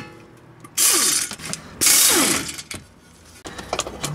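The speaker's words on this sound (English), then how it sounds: "now we're gonna remove these two bracket bolts" A ratchet loosening the brake caliper bracket bolts on a 2012 Mazda Speed3, producing two loud bursts of rapid clicking close up, followed by lighter metallic tool noises, with no talking.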